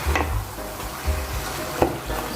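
Mashed eggplant and tomato sauce are stirred in a frying pan, with a steady sizzle broken by a few distinct scraping strokes of a spoon against the pan, close and fairly loud.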